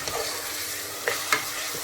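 Onions frying with ginger garlic paste in a heavy-bottomed cast iron pot, giving a steady soft sizzle with two brief scraping stirs near the end.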